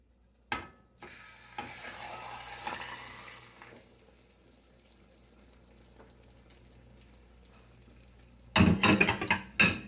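A Spanish tortilla of egg and potato cooks in a pan, with a faint steady sizzle and a few knocks of cookware, then a louder burst of clattering and sizzling near the end, no voices.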